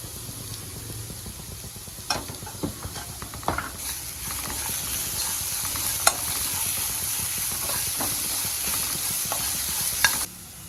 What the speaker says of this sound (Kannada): ಚೆನ್ನಾಗಿ ಫ್ರೈ ಆಗಿದೆ ನೋಡಿ, ಎಲ್ಲನೂ ಒಗ್ಗರಣೆ ಎಲ್ಲ ಫ್ರೈ ಆಗಿದೆ.